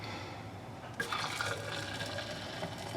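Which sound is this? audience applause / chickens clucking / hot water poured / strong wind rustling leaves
hot water poured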